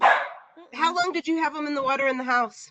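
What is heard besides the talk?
dog barking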